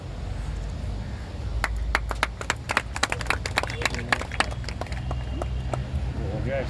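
Audience at a Haryana function clapping after guests are welcomed with garlands, giving sharp, separate claps over a steady low hum and murmuring voices.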